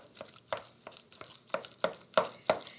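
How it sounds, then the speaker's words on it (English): Potato salad being stirred in a bowl, a series of soft, wet scraping and squelching strokes at a steady, irregular rhythm, close and fairly quiet with no talk. "Give it a nice stir."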